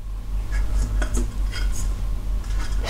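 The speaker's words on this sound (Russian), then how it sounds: "И давайте покажу сами кастрюльки" Metal saucepans handled after cleaning, giving a few close, bright clinks and light knocks against one another over a steady background hum.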